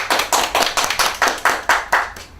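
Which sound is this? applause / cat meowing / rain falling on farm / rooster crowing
applause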